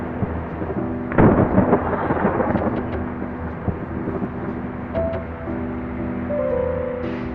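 Thunder rumbles and crackles in a driving video game, with a loud clap about a second in that rolls on beneath steady game engine drone and occasional tones, no talking.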